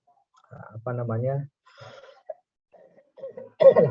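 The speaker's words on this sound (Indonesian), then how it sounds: "batuk." A few short coughs and throat clearings mixed with bits of speech, close to the mic, with pauses between bursts.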